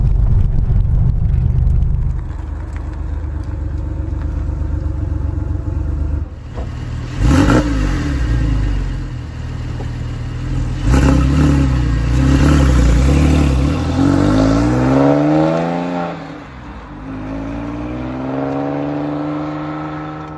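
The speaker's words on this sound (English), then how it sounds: "All right, so now we're going to drive the 997." A Porsche 997 Carrera 4S, all-wheel drive, heard from inside while driving: the engine rises and falls through several strong revving climbs and gear changes, loud and close throughout, with no talking.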